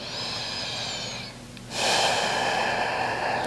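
Slow, deep breathing during a gentle morning yoga stretch, one long airy inhale, a brief pause, then a fuller exhale, close and intimate with no talking.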